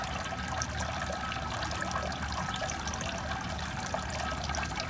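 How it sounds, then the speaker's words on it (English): A garden water feature trickles softly, a faint, continuous splashing and burbling that stays even throughout, without any talking. "I always find the sound of water to be incredibly therapeutic."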